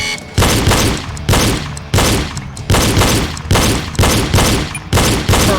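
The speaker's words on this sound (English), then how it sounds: "In this round, you will face popper targets set up at various distances. Shoot all targets." Pistol shots crack at popper targets during a shooting drill, about eight loud reports in a steady rhythm, each sharp onset trailing off before the next.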